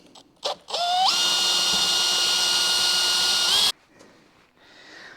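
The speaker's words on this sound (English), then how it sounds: "then we will drill this out" A power drill whines loudly for a few seconds, drilling a cable hole during a gauge pod install on a 2024 Ford F150, its pitch climbing as it spins up, then cuts off abruptly. Quiet handling noises follow.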